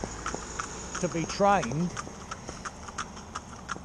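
A pair of Shetland mares clip-clop along a public road with steady hoofbeats, and one horse gives a brief whinny partway through while someone talks over the sound.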